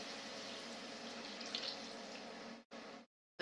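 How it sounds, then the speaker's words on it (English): Two cups of chicken stock pour steadily into a pan in the kitchen while a chicken pot pie is made, a close, continuous liquid splash that briefly cuts off, resumes, then stops. "So I'm going to pour my chicken stock,"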